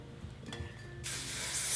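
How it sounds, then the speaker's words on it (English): A can of hairspray sprays in one continuous, close hiss that starts midway through, after some quiet handling noises. "Spray some hairspray"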